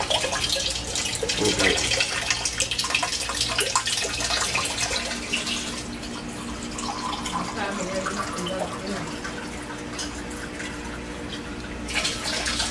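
Steady rushing and trickling water runs through a homemade drum filter, loud and close, with a brief shift in tone partway through.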